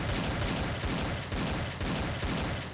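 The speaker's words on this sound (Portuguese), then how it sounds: "Eu dei 50 tiros, não acertei um no cara, mano" Rapid bursts of gunfire from the video game Blood Strike, dense automatic shots fired in quick repeated volleys, loud and continuous with no voices.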